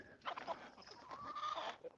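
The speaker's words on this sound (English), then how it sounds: "these are my chickens" Chickens, a rooster and guinea fowl cluck and call in a yard, a short faint burst of bird sounds with some voice mixed in.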